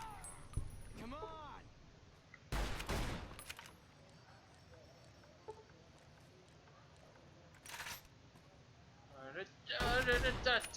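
Fallout: New Vegas gunfire comes in brief loud bursts of several rapid shots, separated by quieter stretches with faint in-game sounds and a low speaking voice.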